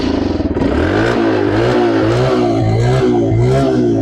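A 2019 TVS Star City Plus motorcycle engine is revved up from idle several times in quick succession, close and loud, its pitch rising and falling with each twist of the throttle.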